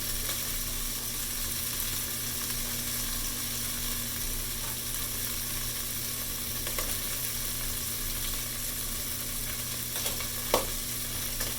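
Shrimp for salt and pepper shrimp sizzle and crackle steadily in hot oil, a continuous close frying hiss with occasional small pops and one sharper clink near the end.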